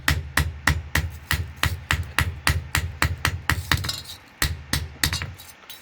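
A steel piece cut from a hoe blade is hammered level at a blacksmith's bench. Close, sharp metallic strikes land in a steady rhythm of about two per second, with one brief pause partway through.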